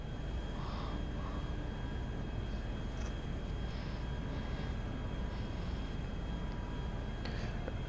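An airplane in GTA 5 Online flies along with a faint, steady engine drone and airy rush, continuous and even in level throughout.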